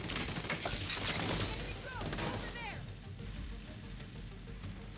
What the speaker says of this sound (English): Okay, that grenade is nowhere near me.